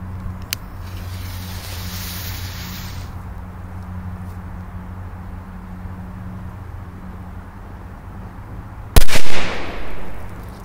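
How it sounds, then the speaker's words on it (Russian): A steady low rumble and hiss, then one sharp, loud explosive bang of a powerful firecracker placed under a toy truck near the end, followed by a brief crackling tail. "Здесь мы тоже взрываем большие петарды, мощные"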